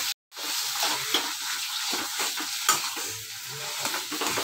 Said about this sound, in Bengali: আমি খুব ভালো করে সব মশলাগুলোর সাথে ভালো করে আলুটা মিশিয়ে দিচ্ছি।